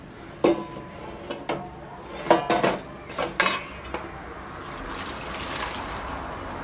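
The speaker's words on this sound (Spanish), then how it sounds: "ahora vamos a proceder a sacar la, pasta del agua" Farfalle pasta is lifted out of its cooking water with a utensil in a home kitchen, producing several sharp metallic clinks and clatters against a pot, followed by soft dripping and trickling water.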